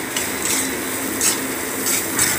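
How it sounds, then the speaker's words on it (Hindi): Red chili and coriander powder are stirred and lightly fried in a pan for a chana dal dish, with a steady soft sizzle and a few scraping stirs, close and alone. "इसको थोड़ा चलाएंगे, हल्के से मसाले को भूनेंगे।"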